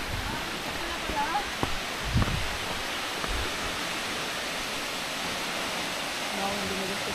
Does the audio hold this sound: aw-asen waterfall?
yes